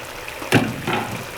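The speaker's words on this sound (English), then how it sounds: "Let's just go ahead and pour in our palm nut concentrate into the pot." A thick palm nut concentrate poured into a pot where fish is cooking for banga soup, a single soft splash and slosh that rises suddenly and then trails off quietly.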